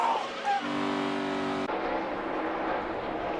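NASCAR stock cars roar around the track at Atlanta, a loud sustained engine drone with one car passing close and the pitch shifting as it goes by.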